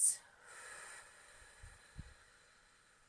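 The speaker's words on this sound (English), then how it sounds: "Take a deep breath in" A slow, deep breath drawn in and let out, faint and airy against a quiet hum, with a brief sharp snort-like sniff at the start and a soft thump near the end.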